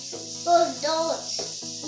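Butter sizzles softly on a hot waffle iron, a steady hiss running under a voice talking nearby.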